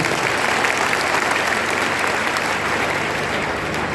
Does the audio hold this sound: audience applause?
yes